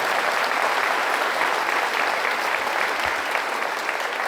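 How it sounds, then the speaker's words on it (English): An audience applauds at a graphic design talk, a dense, steady wash of many hands clapping at even loudness for about four seconds, with no voices over it. "I'll give some claps, yes"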